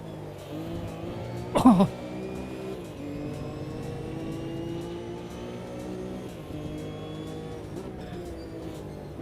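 Lamborghini race car in Automobilista 2 at about 165 mph in a slipstream, a steady engine drone with harmonic whine running throughout, briefly overlaid by a short vocal exclamation near the start.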